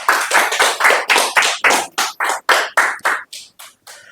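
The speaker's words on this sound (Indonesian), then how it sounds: "Tepuk tangan dulu dong buat Mas Furkon." Applause at a staff meeting for a residence business: about a dozen sharp, evenly spaced claps, loud and close, slowing and thinning toward the end with no talking over them.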